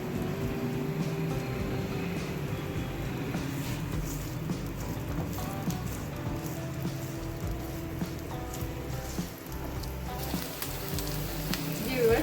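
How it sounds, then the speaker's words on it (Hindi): Onions frying in hot oil for vegetable masala Maggi, a low, continuous crackling sizzle with faint scraping, steady and fairly quiet, no one talking. "जैसे ही ऑयल हमारा गर्म होता है उसमें हम प्याज ऐड करेंगे और इसको 1 से 2 मिनट के लिए फ्राई करेंगे।"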